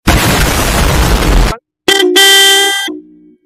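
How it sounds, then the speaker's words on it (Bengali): Aftermarket horn fitted to a stage 2 tuned Royal Enfield Classic 350 motorcycle, heard as a loud burst followed by a close, steady two-tone blare lasting about a second, then a shorter fainter toot. "হর্নটা বাজা"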